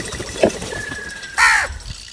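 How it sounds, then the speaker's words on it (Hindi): A crow caws loudly in a burst of harsh, repeated calls, with a fainter earlier call and a brief whistle-like tone in a quiet outdoor setting. "वो दरख्त की सबसे ऊंची शाख पर बैठकर जोर जोर से कांय कांय करने लगा।"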